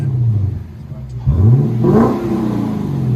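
A Lexus LS 460 with a 4.6L V8 and the mufflers deleted blips its throttle once from a low idle. The short, deep rev rises and then settles back, heard from inside the car.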